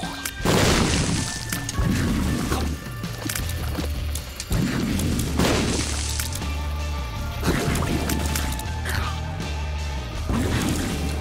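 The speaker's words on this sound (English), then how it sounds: "Have a bomb." Bomb blasts in the top-down game The Binding of Isaac: Repentance: several loud explosive bursts at roughly regular intervals, each a sharp crack trailing into rumble, under busy game sound.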